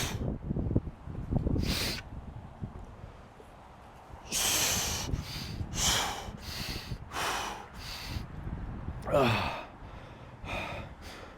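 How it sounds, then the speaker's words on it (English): Loud, close breaths ahead of a clean and jerk, with a few deep inhales and exhales and short snorting bursts in an uneven rhythm. "Big breath."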